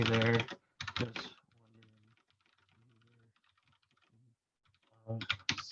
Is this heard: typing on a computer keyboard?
yes